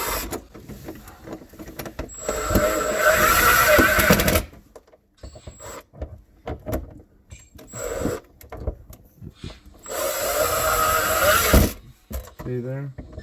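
Mounting screws on a garbage disposal are tightened in two bursts of mechanical ratcheting and whirring, with quieter handling sounds between.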